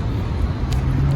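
Road traffic with cars and passenger vans rumbles close by, a low continuous engine drone with a brief whoosh of a passing vehicle.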